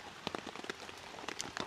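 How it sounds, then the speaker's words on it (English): Rain falls on a hammock camp during a storm, scattered drops tapping a surface in quick irregular patters, faint and close, with no voices. "it is raining"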